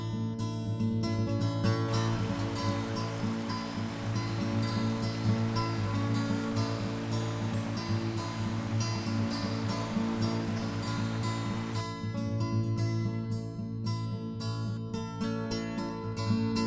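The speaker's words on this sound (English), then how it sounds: "So I have reached another waterfall, which is good." A steady rushing roar of falling water at a waterfall on the Van Hook Falls Trail, Daniel Boone National Forest, loud and continuous, with no talking.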